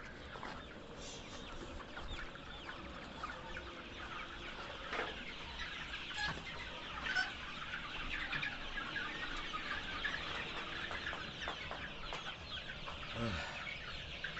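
Chickens cluck steadily in a small rooftop poultry farm of about 1300 birds, a dense, continuous flock chatter with scattered louder calls throughout.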